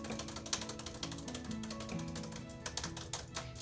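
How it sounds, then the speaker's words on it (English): Rapid, close clicking of computer keyboard keys struck with pointer fingers, a dense stream of sharp taps with a few louder hits, quiet and alone. "This is the thing that sucks with typing with your pointer fingers."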